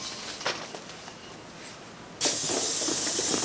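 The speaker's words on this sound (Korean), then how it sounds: "자, 그러면 지금부터 헬륨을 넣어 보도록 하겠습니다." Helium gas rushes into a PVC wave balloon: after a few faint clicks and handling noises, a loud, steady close hiss starts abruptly and continues to the end.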